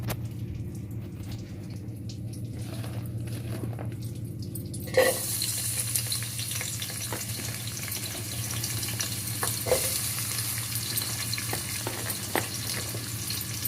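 Onions frying in a pan for mutton dum biryani, a steady close sizzle that jumps louder as they go in, with occasional stirring clinks and no talking.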